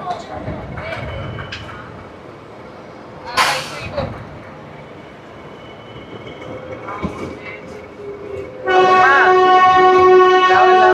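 The 12711 Pinakini Superfast Express arrives at Chennai Central railway station amid station rumble and clanks, with a sharp burst partway through and a loud sustained horn blaring near the end.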